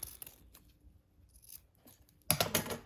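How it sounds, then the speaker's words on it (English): Scissors snip through folded fabric at an angle to cut dovetail edges for an Easter egg topiary craft: a few faint, quiet cuts early on, then a louder, close burst of crisp snipping near the end, with no talking. "cut at an angle"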